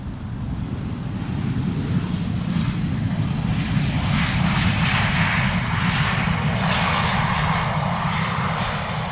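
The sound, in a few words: Airbus A319 airliner from London Heathrow at Schiphol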